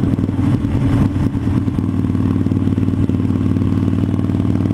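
A Harley-Davidson motorcycle engine runs loud and close in a garage, a steady low, throbbing rumble with a slight surge early on, then holding an even idle with no talking throughout.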